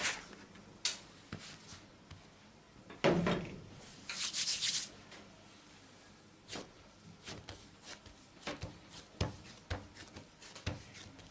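Bread dough for pan amasado is pressed and degassed by hand on a flour-dusted surface, giving soft rubbing and patting with scattered light taps and thumps, close and fairly quiet, with no talk.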